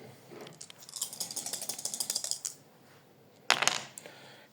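Three dice rolled during a Mage Knight board game, a rapid rattling clatter of small hard pieces for about two seconds, then a short second burst of clicks.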